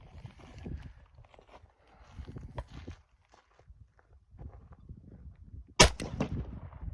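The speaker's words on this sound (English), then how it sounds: "We're gonna shoot the poison bullet at this and see what happens." A Bulgarian AK74 in 5.45x39 fires a single sharp, loud shot at a body armor target, a sudden crack followed by a brief ringing decay, after several seconds of quiet outdoor shuffling and footsteps.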